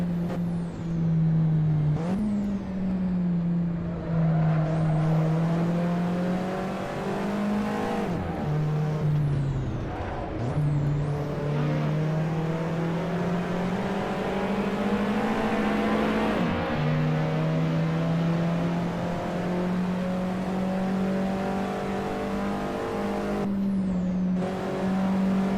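Alfa Romeo 4C racing on the Nürburgring Nordschleife (Green Hell) in a driving video game, its engine droning loudly and steadily throughout, pitch dipping and climbing through several shifts and braking points as it is turned into corners.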